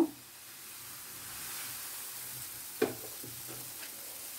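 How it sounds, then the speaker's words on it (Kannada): Batter for a soft set dosa, made from bread, spreads across a hot pan with a quiet, steady sizzle and hiss, broken by a couple of brief clinks near the end. "ಈಗ ನಾವು ಸೆಟ್ ದೋಸೆ ಥರ ಹೊಯ್ತೀನಿ ನಾನು"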